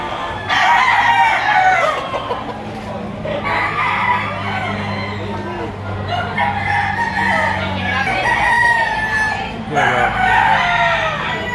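Roosters crow loudly and repeatedly at a chicken market in Lipa, Batangas. Overlapping cock-a-doodle-doos rise and fall, with clucking and a low background murmur of voices between them.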